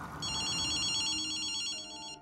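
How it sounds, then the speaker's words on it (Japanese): An in-game telephone rings in Ghostwire Tokyo, one continuous electronic bell burst lasting about two seconds, loud and close, with no speech over it. "電話だぜ。"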